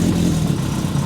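A motorcycle engine runs cold just after a choke start, holding a steady, loud low idle with an even throb and no talk.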